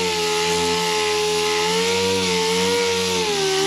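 A dual-action sander works over a plastic repair, giving a loud, steady motor whine with a sustained buzzing hum that wavers slightly in pitch as it is held flat against the surface.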